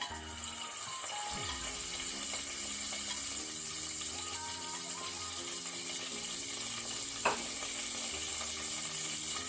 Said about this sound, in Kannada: ಸ್ವಲ್ಪ ಲೋ ಫ್ಲೇಮಲ್ಲಿ ಫ್ರೈ ಆಗಲಿ.